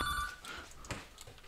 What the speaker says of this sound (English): Oop, phone.